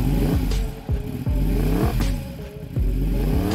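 A homemade motorcycle built from a whole tree trunk runs loudly and close, its engine note rising and falling in repeated revving surges with clattery mechanical noise throughout.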